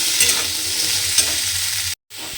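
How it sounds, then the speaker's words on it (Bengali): Potatoes and soaked chickpeas frying in a pan, a steady close sizzle with light scraping stir strokes, cut by a brief silence before the frying resumes. "আলু আর ছোলাটা দিয়ে একটু ভাজা ভাজা মতো করে নিয়েছি"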